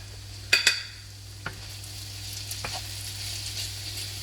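Onions and textured soy protein stirred in a sizzling pan, a soft steady sizzle underneath a couple of sharp utensil scrapes and clinks at the start and occasional quiet stirring taps afterward.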